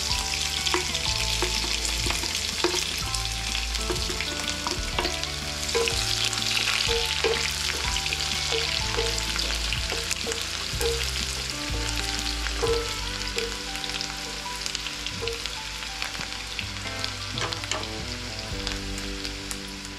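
Chopped onions with cumin sizzle and fry steadily in a pan, a dense crackling hiss running the whole time beneath louder background music.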